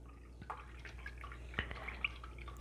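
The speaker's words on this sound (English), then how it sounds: "So I'm going to rinse that out of my brush." Acrylic paint being rinsed out of a brush in a water cup: soft scattered drips and light splashes with a few brief louder taps, quiet and close, no talk.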